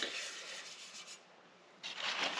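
A spinning buffing wheel charged with polishing paste presses against a workpiece, giving a close, steady broadband hiss that fades briefly midway and then returns at full strength.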